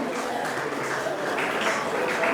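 An audience claps steadily at an award ceremony honouring women in Pune, a dense, continuous wash of applause filling the room with no pauses.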